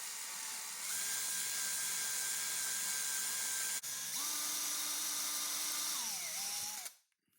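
A power drill with a 1/8 inch bit boring a hole into a Crossrope jump rope handle, a steady high whine in two long runs with a brief break, pitch dropping as it winds down before stopping.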